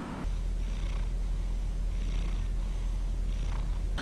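A steady, low rumbling purr runs continuously after a brief quiet start, close and even in volume, with no talking.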